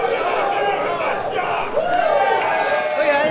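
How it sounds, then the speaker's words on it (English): A professional wrestling crowd boos and jeers at a live match, a sustained roar of many voices swelling midway, with a commentator talking over it. "yet he's the one getting booed"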